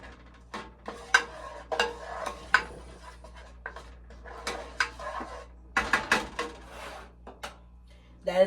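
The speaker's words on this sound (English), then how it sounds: "You want to put the curry seasoning in the bottom of the pot. You want to mix it up a little bit." Curry seasoning being stirred in the bottom of a cooking pot, with sharp intermittent spoon clinks and scrapes against the metal over a quiet background.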